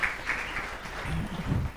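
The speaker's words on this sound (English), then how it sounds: "Could we have a big round of applause for them for getting this?" Short burst of clapping from the audience at an inter-school science quiz, fairly close and uneven, with a few low thumps and murmurs under the claps before the stretch ends.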